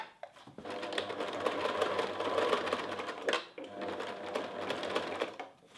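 A sewing machine runs in steady rapid bursts while stitching a denim jacket sleeve, pausing briefly midway before resuming, close and moderately quiet with a faint mechanical clatter.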